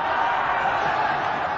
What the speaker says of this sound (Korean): 도망치는 조조의 귀전으로 적병들의 함성이 들려오고 있었다